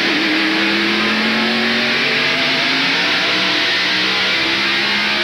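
NASCAR race cars roar around the short Martinsville oval during the 1993 Hanes 500, a loud, continuous engine drone with rising and falling pitch as cars pass, steady throughout with no voices.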